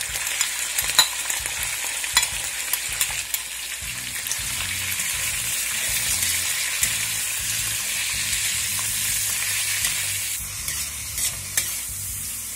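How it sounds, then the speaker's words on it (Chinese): Meat stir-frying in hot oil with chili for Shanghainese chili sauce, a continuous close sizzle with scraping stirs and clinks throughout. "煸到肉变色"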